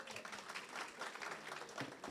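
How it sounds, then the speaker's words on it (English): An audience at a stroke symposium applauds, a short, dense burst of steady clapping from a crowd in a hall, fairly faint. "Give her a round of applause"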